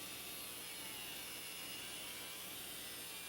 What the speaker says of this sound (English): So now I take it to my angle grinder and I start cutting it down to shape.